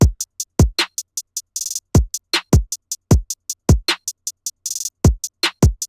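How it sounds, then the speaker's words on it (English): Deep, booming kick drums thump in a bouncy programmed new wave trap pattern beneath ticking hi-hats, claps and quick hat rolls, loud and punchy. "Then we add the kick, which is going to sound like this."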